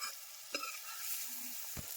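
Spices sizzle in hot oil for a village-style Surti undhiyu, a soft steady fry with a couple of sharp stirring scrapes against the pan.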